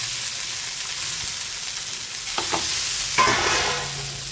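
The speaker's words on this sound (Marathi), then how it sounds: "आता इथे पुन्हा बटाटे टाकून घ्यायचे आहेत" Potatoes frying in a pan with a steady close sizzle, broken near the end by a few sharp scraping stirs that briefly raise the hiss.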